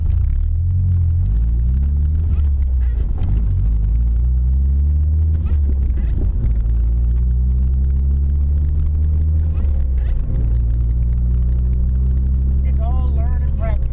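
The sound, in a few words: manual car engine while letting the clutch out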